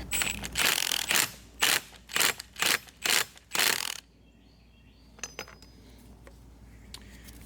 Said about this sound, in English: Take a 1/2 inch impact.